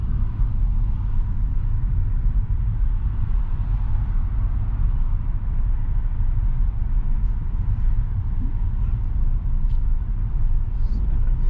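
A manual car on a UK driving lesson rumbles steadily at low speed, its engine labouring under load in a low, continuous drone without a clear shift.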